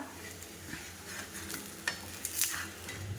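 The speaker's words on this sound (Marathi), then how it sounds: "आणि छानपैकी खरपूस भाजून घेणार आहोत." Methi thalipeeth roasts crisp in a little oil on a pan, a soft steady sizzle with faint scraping and a few light clinks, quiet and without voices.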